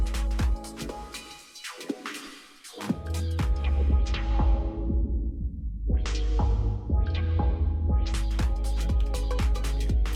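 Dense electronic dance music with a steady pounding beat and sustained tones, washing into a lingering reverberant tail in spots from a reverb effect on a Pioneer DDJ-FLX4 DJ controller, with no voices.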